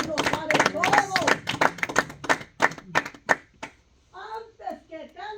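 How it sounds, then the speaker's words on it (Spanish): Church congregation at a bible study clapping together in a brief burst of sharp, fairly close handclaps, then a voice speaking as the clapping stops. "Dale un aplauso a Cristo"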